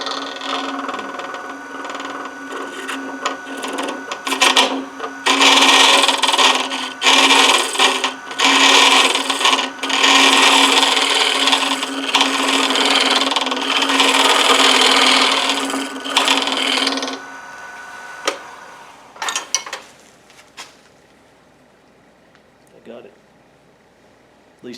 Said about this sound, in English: I am going to go ahead and use the scraper on that.